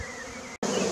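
Honeybees drone around an opened hive, a dense steady buzz that cuts out completely for an instant and then returns slightly louder.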